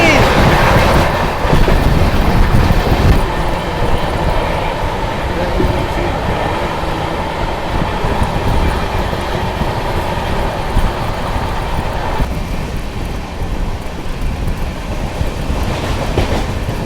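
The Bihar Sampark Kranti passenger train runs past on the rails, a loud steady rumble with rhythmic wheel clatter that persists throughout, close by.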